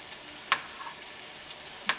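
Onions frying in a pan on an induction hob, a faint, even sizzle with two sharp clinks of a utensil against the pan, no talking.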